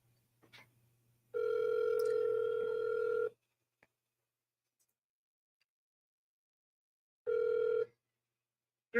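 A phone call rings out before going to voicemail: two long electronic ring tones, the first about two seconds and the second shorter after a long silent gap, clear and fairly close with no talk.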